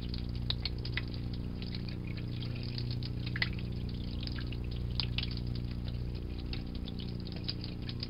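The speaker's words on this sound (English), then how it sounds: "I'm going to run this under cold water" Cold tap water runs steadily over a glass circuit board as ferric chloride is washed off, a continuous splashing hiss over a constant low hum, with no speech.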